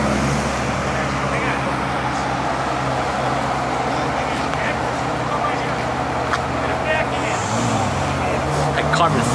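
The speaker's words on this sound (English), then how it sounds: "3 Ferraris in a row. Look at this. Ferrari parade right now." Several Ferraris rolling past in a row at a cars and coffee gathering, a continuous engine and road rumble with people talking nearby.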